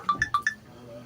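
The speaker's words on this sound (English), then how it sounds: "Somebody answer the phone." A phone rings in short electronic chirps, four quick bright tones in a rapid burst, close and clear, at a putt-putt minigolf event.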